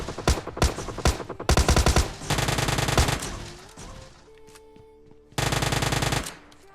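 Gunfire in PUBG Lite: loud bursts of rapid automatic shots and single cracks fire in quick succession, then a brief quieter gap with faint game tones, then another sustained burst close by.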